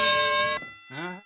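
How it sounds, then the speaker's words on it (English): A single bright bell-like ding with long ringing harmonics opens, decays, then a second shorter tone follows after a brief gap, loud and clean as a sound effect. "The racist detector bell goes ding, ding, ding, ding, ding."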